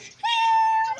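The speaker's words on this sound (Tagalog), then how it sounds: "Meow. Sulod si Miming. Meow." One long, steady meow held close to the listener for most of a second, bright and clear with a faint breathy onset.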